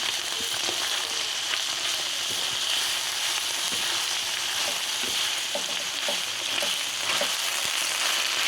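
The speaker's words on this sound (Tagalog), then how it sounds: "Haluin natin." Fried rice loaded with ingredients is stirred in a hot pan, giving a constant loud sizzle broken by scattered scraping and clinking stirs, with no voices.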